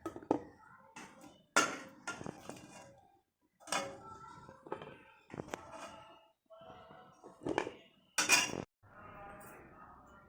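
Sampangi puvulu sweets are set onto a plate in a home kitchen, with a few sharp clatters of dishes and cutlery breaking through soft, ongoing voices.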